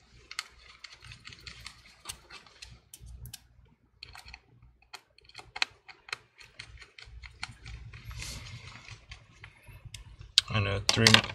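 Small screws being backed out of the case of a MacBook Air A2337 laptop during a cracked-screen repair, heard as scattered light ticking and ratcheting clicks with quiet handling noise, getting busier and louder near the end.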